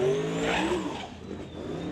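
A Mustang race car in the Outlaw 275 drag class roars loudly down a racetrack, its engine note sweeping past close by and then fading slightly.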